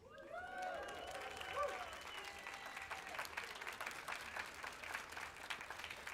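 Audience applause at a DesignTalks session during DesignMarch 2024, a steady wash of many hands clapping throughout, with some voices and murmurs mixed in.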